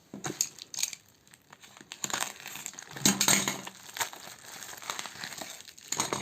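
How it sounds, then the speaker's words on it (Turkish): Packaging crinkles and crunches while a UV light parcel from abroad is unboxed, its crushed box and plastic bag handled up close in irregular bursts, with no speech. "öncelikle UV ışığımızın kutu açılışını yapacağız"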